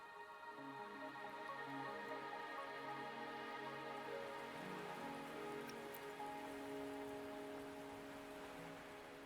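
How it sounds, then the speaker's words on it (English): Steady rain pours across a video game world in Wuthering Waves, an even hiss of drops under soft sustained musical tones, with no voices. "Are you trapped here by the rain?"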